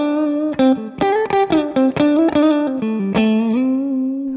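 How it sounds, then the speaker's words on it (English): A clean electric guitar with no gain or distortion plays a quiet phrase with the fingers, then moves to a pick, giving distinct plucked notes in a loose rhythm, close and clear with no talking. "If you blend that softness of fingers playing something fairly quiet, and then transition to a pick"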